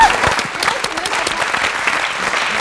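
Hearty audience applause at a TV game show, a dense steady wash of many hands clapping throughout, close and loud, with no voices standing out.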